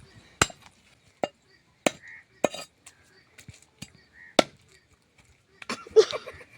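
Fish being chopped with a knife for crispy fish pakoda in a village kitchen: several sharp, separate chops strike a board at irregular intervals, close and fairly loud, with faint clinks and brief talk between them.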